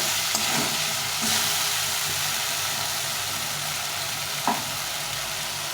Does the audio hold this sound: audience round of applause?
no